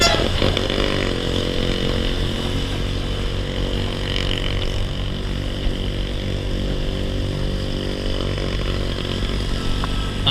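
A motorcycle engine drones steadily while riding on a touring route through southern Cianjur toward Pangandaran. It is loud, close and continuous, with a rough, buzzing tone throughout.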